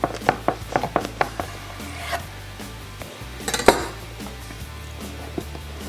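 Knife sawing through a huge steak sandwich on sourdough, close up, with a quick burst of crunchy strokes through the crust and a louder crunch later, no talk.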